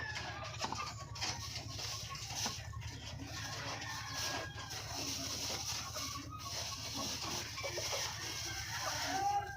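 Chickens clucking close by, a continuous scatter of soft clucks and calls over low farmyard rumble, with a faint voice in the background.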